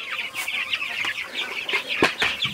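Chickens cluck repeatedly while pecking and scratching at the ground for food, a flock of young birds making steady close calls with a few sharper clucks standing out.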